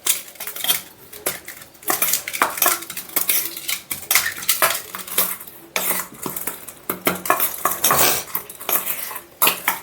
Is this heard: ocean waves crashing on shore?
no